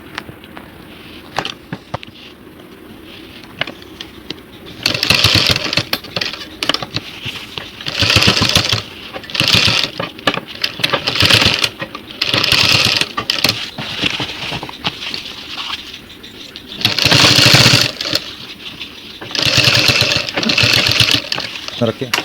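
A sewing machine stitches the collar of a denim jeans jacket in loud, repeated running bursts separated by short pauses, with someone talking over the work.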